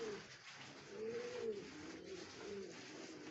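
Pigeons in a home farm coo softly in a few drawn-out, wavering calls, quiet and fairly close against a faint background.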